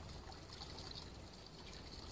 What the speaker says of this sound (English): we're going to rinse these grains off